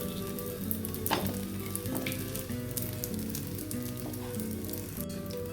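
A mango holige flatbread cooks on a hot pan with a continuous crackling sizzle of oil, steady and close, dotted with sharper pops and a few faint scrapes.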